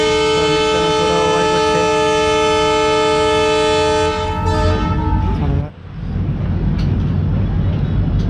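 The Mandovi Express on the Konkan Railway sounds a long, loud, steady horn blast at Kankavli station, which cuts off to leave the rumble of the departing train rolling on.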